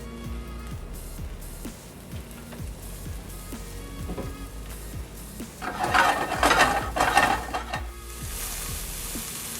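Chicken masala with mushrooms frying in oil in a pan, a steady sizzle with scattered clicks and rattles, swelling louder midway as the pan is stirred, no voices.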